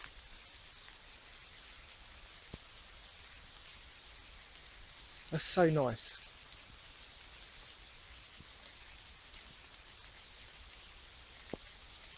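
Steady rain patters on surfaces outdoors, a soft constant hiss, with a brief burst of speech and a short whistling sound partway through.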